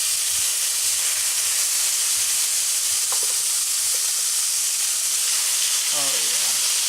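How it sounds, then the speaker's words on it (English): Moose steaks sizzle steadily in hot oil over medium-high heat, a loud continuous broadband hiss from start to finish with a few faint clinks and a brief tonal squeak near the end. "we're gonna take our steaks, go ahead and just drop those right in there."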